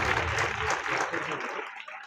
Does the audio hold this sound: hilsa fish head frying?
no